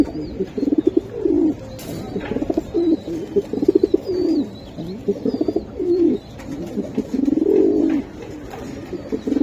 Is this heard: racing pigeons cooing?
yes